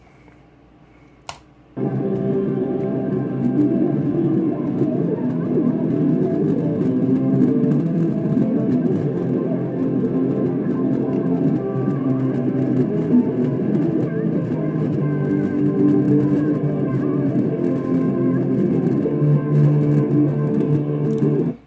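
After a brief click, dense bass-heavy music plays loud and continuous at volume 100 through a small 2-inch speaker used as a woofer, booming and slightly distorted.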